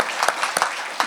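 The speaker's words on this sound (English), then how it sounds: "So give a round of applause to our community outreach team." A few scattered, brief claps ring out from an audience at a Pasco Chamber of Commerce December luncheon, sharp and close together in a short burst.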